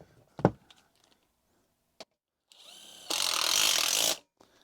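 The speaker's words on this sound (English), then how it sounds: "We're gonna put 3 screws in it." A power drill drives a screw into a forced-air zone damper: a few sharp knocks, then the motor whirs up and runs loud for about a second before stopping, nearby with no talk.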